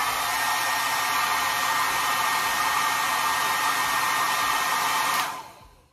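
A Dyson-shaped hair dryer on its high setting gives a loud, steady, powerful blowing roar close by, then switches off and winds down in the final second.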